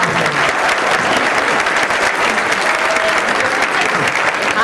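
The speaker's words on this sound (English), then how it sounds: "I just have one more rousing applause for these fabulous authors." A crowd gives enthusiastic applause for authors at a closing author event at Wild Dunes, producing a loud, dense, continuous clapping that fills the whole stretch without pause.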